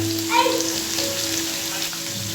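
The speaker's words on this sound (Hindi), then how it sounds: "जितना प्याज हमने फ्राई करना था ना उतना कर लिया है" Onions fry over a low flame in a pan for a kaleji pota recipe, a steady close sizzle and crackle like light rain, with a brief scrape of stirring near the start.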